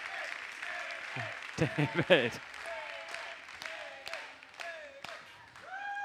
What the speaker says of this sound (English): how about another round of applause anyway?